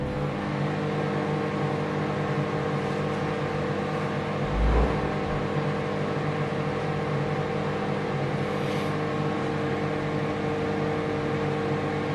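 A Samsung solo microwave oven runs with a steady, close electrical hum and fan whir, droning unchanged throughout with a brief low thump midway.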